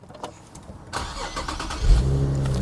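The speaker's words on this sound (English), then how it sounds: "Once you tap the button, the car fires right up." A 2008 Infiniti G37 Coupe engine cranks and fires up via push-button start, catching after a brief whir and settling into a steady close idle rumble.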